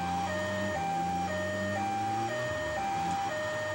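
A wailing two-tone ambulance siren from the video game Grand Theft Auto III rises and falls steadily and continuously, mixed with a low engine drone and no talking.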